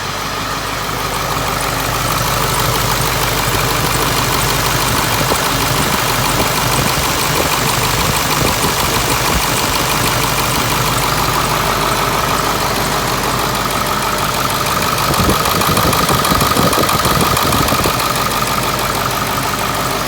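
A Ford 7.3 truck engine runs steadily after starting, a loud, continuous diesel idle with a knocking texture and a slight rise in roughness near the end, with no voices.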